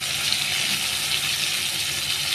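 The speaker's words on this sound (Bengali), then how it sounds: "এখন আলুগুলো ভেজে নেব" Potato pieces frying in hot oil for a fish-head ghonto, a steady, dense sizzle and crackle that stays even and close throughout with no talking.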